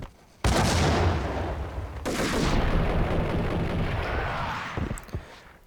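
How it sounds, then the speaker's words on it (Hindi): Grenade blast followed by sustained gunfire in the video game Max Payne, a loud burst that cuts in abruptly and rolls on as dense rattling fire before tapering off near the end. "ग्रेनेड"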